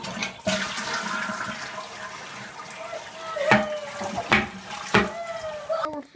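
A toilet flushing in a cartoon, a rushing gurgle of water that swirls on for several seconds with a few sharp splashes, while voices talk over it.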